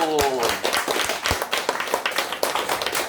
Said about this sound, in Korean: 우리의 이 말씀대로 행하실 주님께 미리 감사의 박수